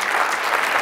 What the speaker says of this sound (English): Don't clap on that.